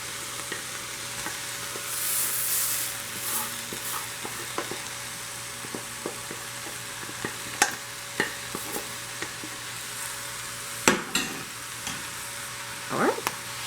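Chicken cauliflower fried rice stirred in a pan, soft sizzling under repeated scraping and clacking of a spatula, with sharper knocks near the end, no talking.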